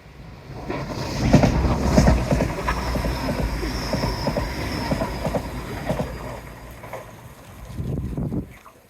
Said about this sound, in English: Always time to stop for a train, even if the train's not going to stop for us.